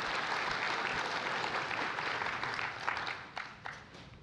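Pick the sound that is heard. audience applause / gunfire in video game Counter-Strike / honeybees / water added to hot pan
audience applause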